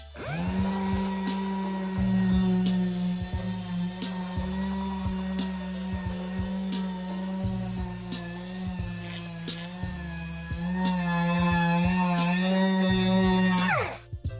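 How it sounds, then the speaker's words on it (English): A power sander grinds rust off the steel of a bulk trailer, a close, loud whining motor drone with a steady tone that rises and dips as pressure changes, interrupted by scraping clicks before winding down, with no voices. "I would sand all the rust off so it's nice and smooth"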